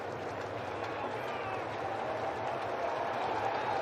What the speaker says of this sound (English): Crowd comes alive on 2-2